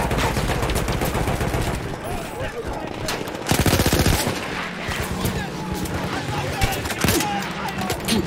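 Dense machine-gun and rifle fire rattles almost continuously in a Battlefield 1 game battle, with bursts and heavier blasts layered into a loud, chaotic mix and some voices in the background.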